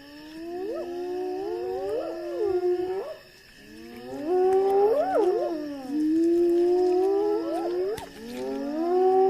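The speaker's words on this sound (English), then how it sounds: "Their wailing chorus attracts reinforcements." Spotted hyenas near a lion kill in the Zambezi wilds give a loud wailing chorus of rising and falling whoops and howls, several voices overlapping in repeated swooping calls with a brief lull partway through.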